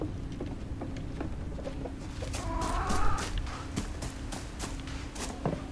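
Chickens cluck in a farmyard scene in the video game REKA, a run of short, soft clucks and scratchy steps over a steady low background hum, with a louder burst of calls around the middle.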